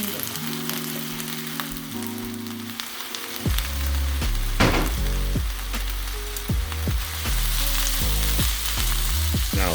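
Sliced onions and warmed yakisoba noodles sizzle loudly in a hot pan, a steady frying hiss broken by repeated clatters and scrapes as the food is stirred and tossed.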